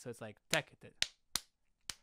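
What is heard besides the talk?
clapping an odd rhythmic grouping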